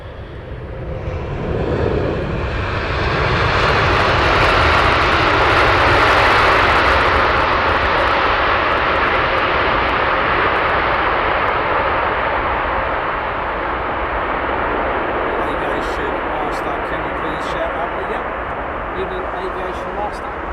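Loud, sustained roar of an Oman Air Boeing 787 jet arriving at Heathrow Airport, swelling as it passes overhead and then slowly fading, with voices speaking faintly underneath.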